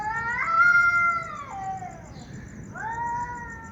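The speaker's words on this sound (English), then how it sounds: "The cats are also feeling this. They are mewing." Cats mew at dawn in two long, drawn-out wailing cries, the first rising and bending over about a second and a half, the second after a short pause, heard close and clear against a faint background hiss.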